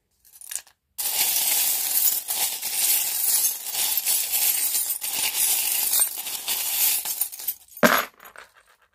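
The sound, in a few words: tarot charms being cast onto a table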